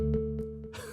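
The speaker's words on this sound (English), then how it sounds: "There's a single preset. It's called Organ 2, and it sounds like this." A single sustained note from the Organ 2 preset on an M1 synthesizer, steady and clear with a bright, buzzy organ timbre, fading slightly before a breathy noise at the end.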